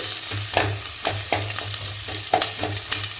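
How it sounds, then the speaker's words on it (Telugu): Sliced onions and green chillies fry in hot oil for biryani, a steady close sizzle punctuated by a few spatula scrapes and taps at irregular intervals, with no one talking. "ఆనియన్కి పచ్చిమిరపకాయలు కూడా వేసేసుకోవాలి ఇది బాగా ఫ్రై అవ్వాలి"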